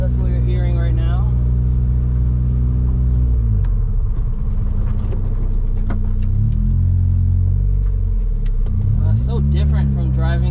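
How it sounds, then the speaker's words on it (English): Deep, throaty ISR aftermarket exhaust on a turbo Mazda Miata rumbling loudly from close by, with harmonic drone rising and falling as the engine revs between gears; a voice speaks at moments. "It has an ISR exhaust. That's what you're hearing right now."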